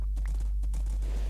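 Horse hooves clip-clop in Minecraft, a quick, steady run of light clopping steps over a constant low hum, with no talking.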